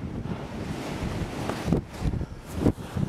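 Strong wind roars across an exposed, snowy mountainside on Evia in Greece, a steady loud buffeting rush against the microphone with gusts swelling near the end, no voices.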